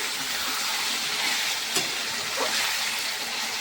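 Meat frying in a pan gives a steady, close sizzle of fine crackling hiss with a few brief sharper pops and spits, and no voices over it.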